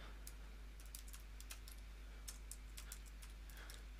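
Quiet clicking of a computer keyboard as a short word is typed, with irregular soft keystrokes in small bursts over a steady low electrical hum.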